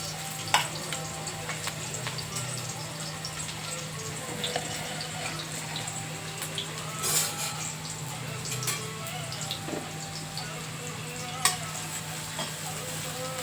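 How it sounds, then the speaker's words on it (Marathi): Onion frying in a kadhai for a turmeric usal, a continuous close sizzle with scattered crackles, stirring scrapes and a few sharp utensil clinks, no one talking. "कढईमध्ये कांदा टाकला"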